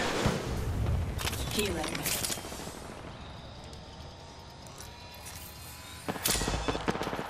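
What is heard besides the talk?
gunfire in the video game Apex Legends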